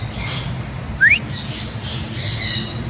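A talking bird at Ninoy Aquino Parks and Wildlife gives a single short rising whistle over steady outdoor background noise.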